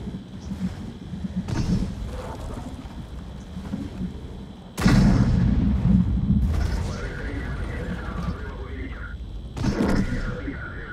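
Several loud booming tank cannon blasts in World of Tanks ring out at irregular intervals, layered over people talking and game effects.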